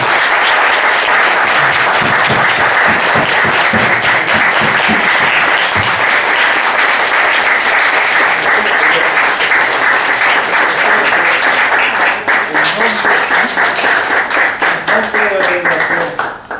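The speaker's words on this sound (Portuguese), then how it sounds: "Yo pido un fuerte triple, cuádruple o quinto aplauso" Loud, sustained applause from a large audience at a world congress of traditional, alternative and complementary medicine, dense clapping filling the hall for the whole stretch and thinning slightly toward the end.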